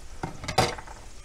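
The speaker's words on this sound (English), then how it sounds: "You don't want your garlic to cook too long," Garlic frying in a pan for a mushroom pasta, a soft sizzle under brief stirring scrapes and a utensil clink close by, with no voices.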